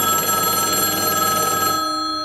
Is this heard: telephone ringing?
yes